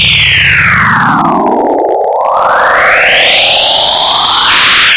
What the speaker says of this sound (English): Everything I drew sounded like a bunch of loud static.